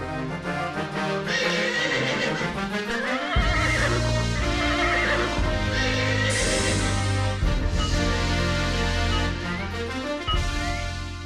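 A horse neighs repeatedly in loud, shrill whinnies that rise and fall over a full, layered music bed, with no talking.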